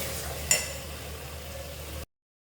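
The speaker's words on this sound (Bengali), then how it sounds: "মশলাটা কষে নিয়েছি এখন মাংসগুলো দিয়ে দিব" Spices and meat frying in a pan, a faint steady sizzle with a brief clatter near the start, cut off abruptly after about two seconds.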